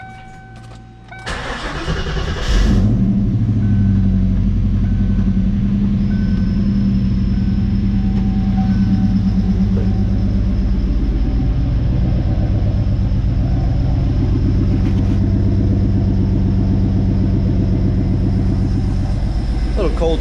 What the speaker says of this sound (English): So now, let's go ahead and start the car up.